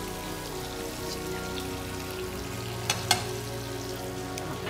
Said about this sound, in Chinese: 结果这样就煎熟了